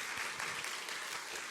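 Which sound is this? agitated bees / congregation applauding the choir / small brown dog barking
congregation applauding the choir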